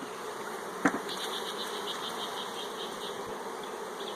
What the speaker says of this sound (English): smoke the bees down just to get them out of the way